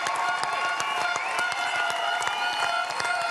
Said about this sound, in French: Et tous les membres du comité sont debout pour applaudir et fêter ces jeunes pâtissiers